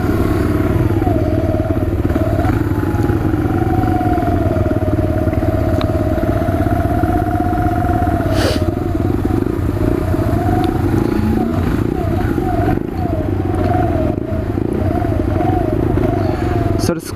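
Sinnis Scrambler motorcycle with a Suzuki DR/GN-based engine and knobbly tyres, ridden in the rain, gives a steady, close engine drone whose pitch rises and falls with throttle changes over a constant rushing background.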